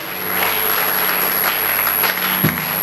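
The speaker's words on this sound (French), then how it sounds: "Est-ce que tu peux acclamer pour le Seigneur?" A church congregation claps and cheers for the Lord, steady dense applause filling the room throughout with a constant high tone from the sound system.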